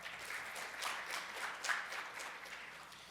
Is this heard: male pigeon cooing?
no